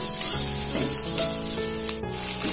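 Onion and chili fry in a little hot oil on full heat, giving a steady, hissing sizzle under tonal background music.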